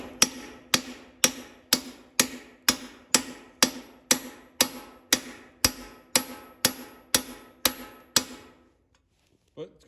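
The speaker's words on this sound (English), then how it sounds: "Don't want to hit it too hard, just kind of just slowly tap it in." A hammer taps a socket to drive a bushing into the front end of an International 986 tractor, about sixteen evenly spaced, close metallic knocks, then silence.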